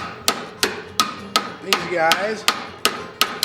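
A hammer beats a forged metal moose ear into a dishing form, nine sharp, evenly spaced metallic strikes ringing close and loud, with a brief voice between blows midway.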